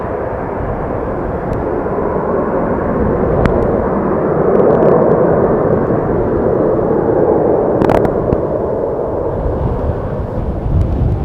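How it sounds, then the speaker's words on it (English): A jet airliner at Amsterdam Schiphol Airport on its takeoff roll, a loud, broad, sustained engine roar that swells and holds steady for the whole stretch, with no talk. "Very quick takeoff roll."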